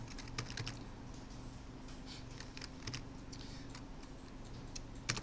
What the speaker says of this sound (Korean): 키보드 G 누르면 다시 나타나요